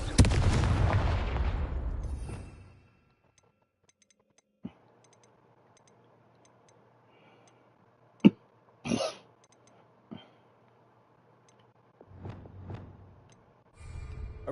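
Confringo blasting spells going off in the Hogwarts Legacy game: a burst of noise at the start, then several sharp isolated blasts and pops spaced over a quiet low hum, with a rumbling explosion near the end.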